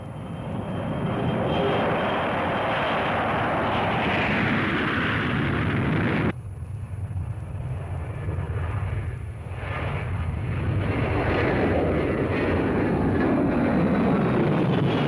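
A Strategic Air Command bomber launching, a loud, broad jet-engine roar that swells and shifts in pitch, briefly cuts away, then returns as a sustained thundering rush.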